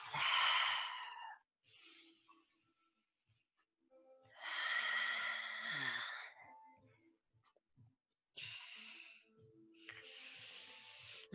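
Deep, audible breaths during yoga practice come in long drawn inhales and exhales, close and breathy, alternating with short quiet pauses over several cycles.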